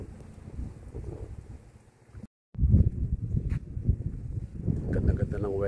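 Cold outdoor wind on a clear 39-degree day buffets and rumbles in gusts close to the microphone, briefly dropping out before returning stronger, with some soft vocal sounds mixed in.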